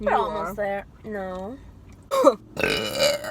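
A young woman lets out a loud, rough burp after some talking, followed by another raspy throat sound, close to the microphone.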